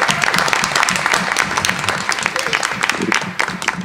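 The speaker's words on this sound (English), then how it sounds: "So give her a round of applause for that." A round of applause at a Highland Park, New Jersey school board meeting honours a school counselor, a loud, crowded burst of clapping that fills the room for a few seconds.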